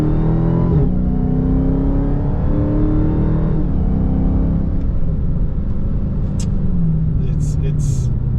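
A 2022 Dodge Charger Hellcat's supercharged engine revs hard and accelerates from a roll in sport mode, its pitch climbing in stages through the gears, supercharger audible, loud and close throughout.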